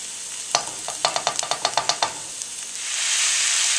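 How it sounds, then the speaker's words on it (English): Onions for a spicy shepherd's pie sauteing in a pan: a quick series of sharp spatula taps and stirring knocks over a soft sizzle, then a steadier hiss of frying takes over. "we're going to start by sauteing the onions for about 2 minutes"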